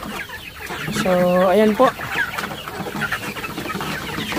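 Several laying hens cluck and squawk close by at their feeder during feeding time, one drawn-out call standing out, with someone speaking briefly over the flock.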